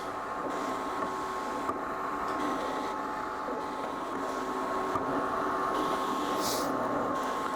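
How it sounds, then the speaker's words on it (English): A Graphtec Craft Robo Pro vinyl plotter cutting a silk screen stencil gives off a steady mechanical whir with faint tonal hum, holding an even level throughout with a few soft shifts as the cutter moves. "you'll hear the machine start to cut, and it does some magic and it cuts out our stencil for us."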